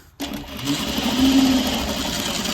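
A sewing machine starts up abruptly and runs in a steady close whirring hum while stitching fabric for 18th-century pockets, holding an even speed to the end.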